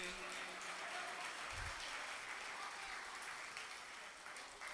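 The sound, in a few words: audience applause at a poetry recital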